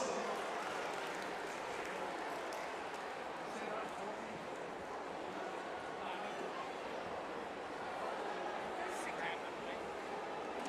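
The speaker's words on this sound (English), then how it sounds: "Give her a big round of applause." A crowd at a women's basketball game between Geelong Venom and Townsville Fire applauds a prize winner, a steady wash of clapping heard from a distance, continuing evenly for about ten seconds under arena noise.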